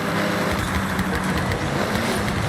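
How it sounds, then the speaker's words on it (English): Upgraded turbocharged car engine in the racing game Forza Horizon, a dense, continuous roar at steady high load with no pauses, loud and close. "You can hear the engine has more power."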